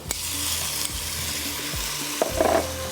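Spices, ginger and garlic hit hot oil in a pan for a kofta handi curry, giving a loud, steady close sizzle with a few stirring clatters.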